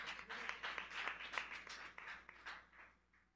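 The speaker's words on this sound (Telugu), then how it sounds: "గట్టిగా చప్పట్లు కొట్టి దేవుని నామమున మహిమపరచండి." A church congregation claps loudly in praise, a dense patter of many hands ringing out, heard somewhat distant and faint before it tapers off at the end.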